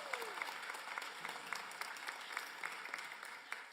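A crowd at a Baltimore mayoral reelection campaign announcement applauds, a steady, moderately distant patter of clapping with scattered sharper claps.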